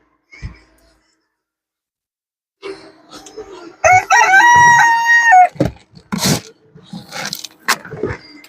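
A rooster crows loudly and close in one long drawn-out call, set among short chicken clucks and scattered farmyard noises, after a quiet opening.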